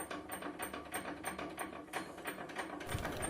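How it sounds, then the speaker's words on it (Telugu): Locked door rattling rapidly back and forth in its frame during an earthquake in Punjab, a steady run of close metallic clicks and knocks with no talk. "సేమ్ ఆ రోజు ఇలానే అనమాట, ఇలా మూవ్ అయింది డోరు లాక్లో ఉన్నా కూడా"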